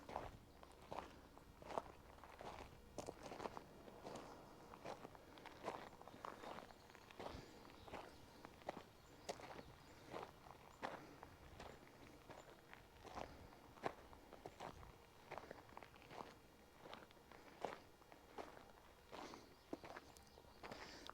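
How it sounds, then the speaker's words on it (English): Footsteps crunch steadily through a sprawling junkyard of old rusty cars, including Studebakers, Cadillacs and Pontiacs, each step a crisp, close scuff on gravel and debris in an even walking rhythm with no talking. "I'm just gonna let you guys listen to my footsteps"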